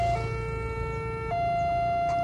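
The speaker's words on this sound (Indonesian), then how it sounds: "Oke, sirine sudah berbunyi." A railway level-crossing warning siren at Brangsong, Kendal, sounds as a steady electronic two-tone wail, shifting pitch once, heard close over low road noise.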